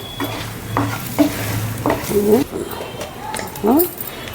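Spicy egg fry masala stirred in a pan, a spatula scraping in short repeated strokes over a steady close sizzle, while a voice talks over it.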